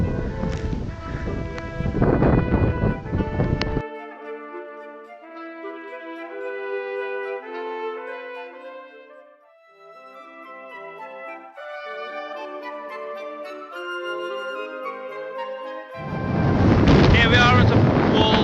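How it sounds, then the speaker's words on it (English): Strong wind on Walltown Crags atop Hadrian's Wall roars and buffets the microphone loudly at the start and end, with music playing in between. "Very windy. The camera's going to get blown out of my hand."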